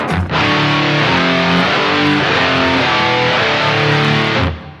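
A heavily distorted electric guitar through an EVH Gear amp and power amp plays loud, chugging chords and riffs that ring out continuously, close up and aggressive, ending abruptly.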